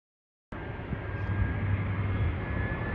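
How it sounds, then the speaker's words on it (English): An airplane passes overhead outdoors, a loud steady jet-engine roar that starts abruptly and holds at full strength, broadband and rumbling with no talk. "I know some of you will also like planes, but this is the main reason I have to cut my filming at some times."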